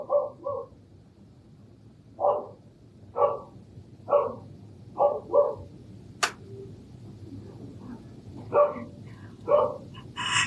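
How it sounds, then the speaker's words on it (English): Dogs bark at a moderate distance in short separated pairs and single yaps, spread irregularly over a low steady background hum, with no talking over them. "There goes the dogs."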